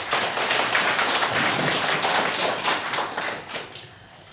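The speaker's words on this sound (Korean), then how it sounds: "박수 한번 쳐주세요" An audience at the remodeling completion ceremony of a community administrative welfare center in Jecheon, Korea, gives dense, sustained applause that fills the space and tapers off at the end.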